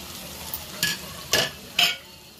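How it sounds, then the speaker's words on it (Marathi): Cooked rice going into a sizzling prawn masala in a pan, stirred with three or four distinct scraping strokes over a soft, steady frying hiss, fairly quiet and close, with no voices. "आणि आता आपण फायनली राईस ॲड करायचा आहे"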